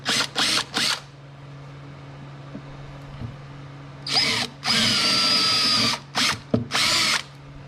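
A power drill bores holes while fitting saddlebags on a Harley-Davidson Tri Glide, whirring loud and close in several short bursts, with a longer sustained run after a quiet pause.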